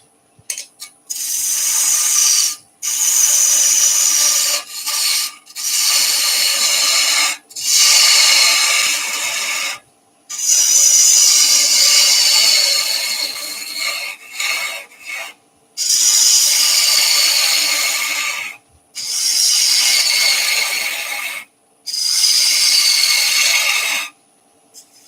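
A turning tool cuts waste away from a soft lime wood spinning top on a lathe, in about nine hissing, scraping bursts separated by short silent pauses, close and fairly loud.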